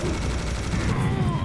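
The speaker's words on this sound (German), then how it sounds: "Ich höre immer noch Rumgeballer." Dense gunfire in the video game Serious Sam HD, a continuous loud barrage of overlapping shots with a rough rumbling bed, no pauses in the volley.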